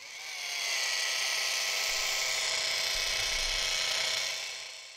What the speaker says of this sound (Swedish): Och då tar vi fram våran mini-poleringsmaskin och så provar vi att polera.